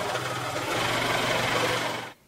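Sewing machine top stitching a fabric headband with a slightly lengthened 4 mm stitch, running at a steady, rapid mechanical hum close up and alone before abruptly stopping.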